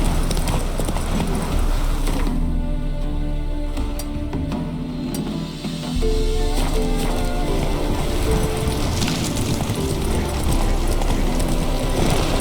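Roach, a horse in The Witcher 3, gallops with steady rapid clip-clop hoofbeats that run loud and continuous throughout, with faint game ambience behind.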